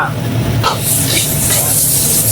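Steady sizzling of food being stir-fried in a hot pan, with brief scraping stirs and a constant low hum underneath; Thai stir-fry cooked without added water, left to char the pan slightly.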